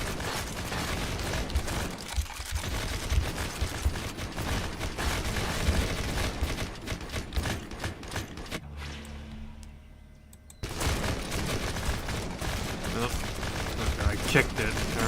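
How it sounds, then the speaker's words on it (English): Rapid gunfire from shooting in the mobile action game Bad 2 Bad: Apocalypse, dense bursts layered over engine-like rumble, a short quieter lull midway before the shooting resumes loudly, with a voice speaking over parts of it. "Feel the wrath of me shooting all sorts of stuff."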